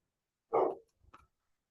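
A single sharp dog bark close by, followed by a softer short bark or yip, then silence.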